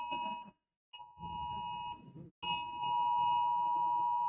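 A phone sounds a hurricane warning alert as a loud, tonal electronic beep in repeated bursts, broken by short gaps and ending in a sustained blare.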